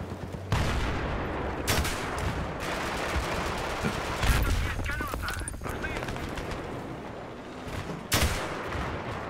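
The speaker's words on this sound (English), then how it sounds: "The tank gotta shoot our mines now." Tank cannon fire aimed at mines in the video game Battlefield 3 on the Grand Bazaar map: several sharp, loud blasts at irregular intervals over a constant din of battlefield noise, with players talking in the background.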